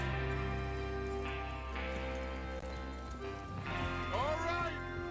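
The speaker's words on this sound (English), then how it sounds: "Get your horses ready." Horses clip-clopping in a train-robbery western video game, a steady hoof rhythm under a droning musical score and voices, with a rising whinny-like swoop near the end.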